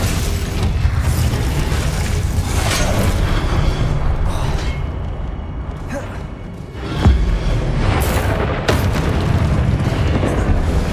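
Confringo blasting spells detonate during combat in Hogwarts Legacy on PS5, loud booming bursts layered over dense game music and effects, with one sharper blast standing out near the middle.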